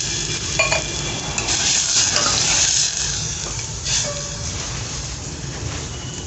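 Masoor dal tempering sizzles in a pan with a loud, steady hiss, while occasional scraping and light clinks of a utensil stirring against the metal rise above it.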